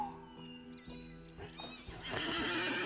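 Eriador horse from the LOTRO game giving a neigh, followed by clip-clopping hooves that build into a louder burst of galloping movement near the end, with a soft musical tone underneath.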